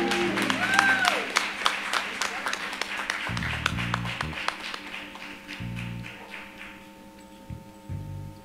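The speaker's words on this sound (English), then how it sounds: "these are our 2022 graduates. You all can give them an applause." A church audience at a Christian Education Day claps for the 2022 graduates, a steady patter of applause over a low hum that gradually thins and fades toward the end.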